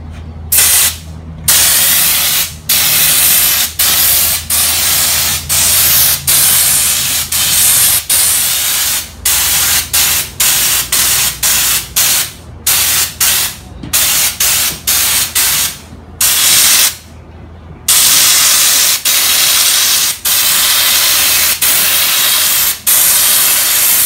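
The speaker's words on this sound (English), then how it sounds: "we're gonna start spraying the parts that were damaged" A spray gun hisses loudly in repeated long bursts, painting damaged parts of a Raptor camper, separated by short pauses as passes are made.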